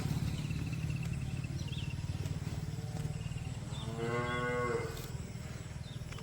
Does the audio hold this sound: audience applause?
no